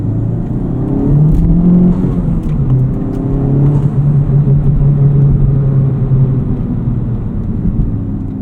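A 2023 sports car engine in plus R mode with the exhaust valve open growls with a loud, steady rumble, its revs swelling and easing a few times, close up.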